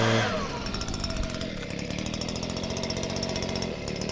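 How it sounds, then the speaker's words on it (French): A small two-stroke leaf blower engine drones steadily and loudly close by, with a buzzy, high-pitched whine holding constant throughout. "Parce que là pour l'instant son engin c'est un souffleur."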